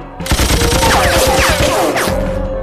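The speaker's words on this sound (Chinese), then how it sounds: "开枪" Rapid bursts of gunfire crackle loudly and continuously in a Chinese wartime drama scene about soldiers fighting enemy forces, with overlapping shots and no voices.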